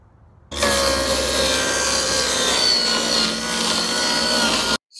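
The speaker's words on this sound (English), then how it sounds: "We're gonna need a skill saw to make our cuts on our plywood and also our 2x4s." A circular skill saw slicing through a sheet of plywood, a loud, sustained whining rip that starts abruptly and runs steadily for several seconds before cutting off.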